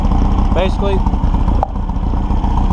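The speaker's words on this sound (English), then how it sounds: "Got the engine running, as you can see." Motorcycle-type engine idling steadily with twin carburetors being synchronized, a continuous mid-pitched rumble close by while someone talks briefly over it.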